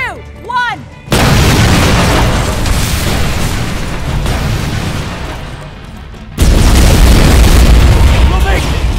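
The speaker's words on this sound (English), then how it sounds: "Detonating in 3, 2, 1." Detonations in a Terminator video game: a sudden, very loud boom bursts in after a brief lull, rumbles on, fades, and then a second heavy blast hits. A voice is heard briefly beforehand.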